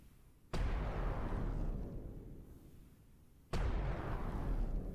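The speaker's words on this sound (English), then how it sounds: "Oh wait, I'm spawning the wrong explosion." Two loud, sudden explosions from the video game Islands of War, each a sharp broadband blast followed by a long rumbling decay, spaced about three seconds apart with no talking.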